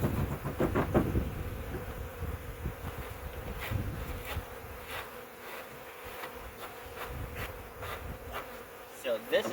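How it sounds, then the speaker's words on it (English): A dense swarm of honeybees buzzes steadily at an open hive during a March inspection, a continuous near drone with a few louder passes and soft handling knocks. "These bees aren't meant to last months."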